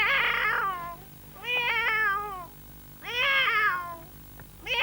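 A boy outside at night imitating a tomcat's meow, giving three long, drawn-out wailing cries with pauses between them, loud and close, and a fourth cry starting at the end.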